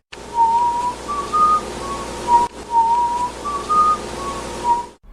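A person whistles a simple melody in clear, steady tones, one phrase repeated twice with a short break between, close and fairly loud.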